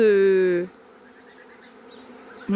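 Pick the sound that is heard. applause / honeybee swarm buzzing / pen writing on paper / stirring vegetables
honeybee swarm buzzing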